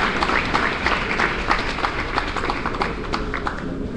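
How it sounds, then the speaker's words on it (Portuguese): Applause from the audience at a coffee debate event on Coffea canephora, steady dense clapping from a seated crowd that holds throughout at moderate loudness. "Vamos aplaudir esse gesto elegante"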